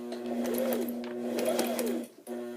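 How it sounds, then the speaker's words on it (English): A sewing machine runs slowly and steadily in a whirring hum as fabric is guided around a tight curve, then briefly stops before starting again, close and clear. "you'll notice as I'm sewing that I stop every once in a while and then I go slow"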